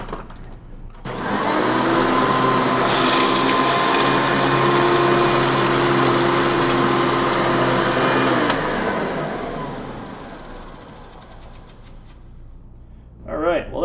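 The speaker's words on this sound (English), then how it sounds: "let's see how this vintage vacuum does against our usual pickup test" A loud Hoover TurboPower 3200 (U5301-930) upright vacuum cleaner motor roars steadily for several seconds with a high whine, then winds down and fades, leaving a quiet hum.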